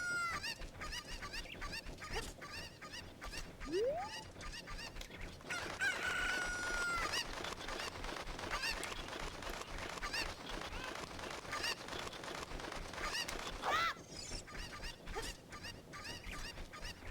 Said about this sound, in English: Grab the chicken.